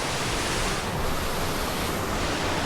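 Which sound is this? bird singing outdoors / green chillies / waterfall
waterfall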